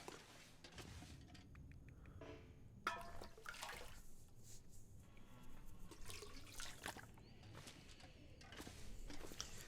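Water from a toilet in the video game The Long Dark runs and splashes in a small basin, with gurgling and scattered clunks, faint and close, no talking.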